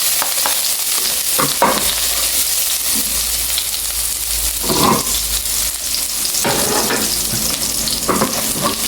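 Siling labuyo chili peppers fry in a pan, a loud, steady sizzle broken by scraping stirs, heard alone without talking.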